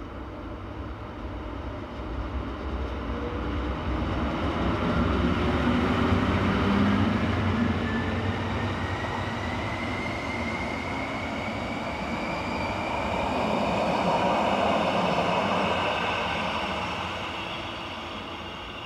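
Train number 622 pulls out of the station toward Landquart with a steady, close rumble that swells and fades, and a rising motor whine runs through it.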